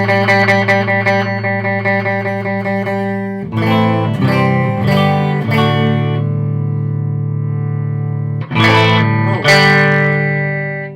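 An electric guitar plays through a distortion pedal into a Vox MV50 boutique amp, loud and close. Fast picked repeated notes give way to thick sustained distorted chords with ringing decays, then sharp strummed hits.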